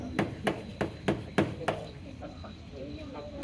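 A banana used as a hammer strikes a hard surface in six evenly spaced dull thumps, close, then stops, leaving faint background noise and a soft voice.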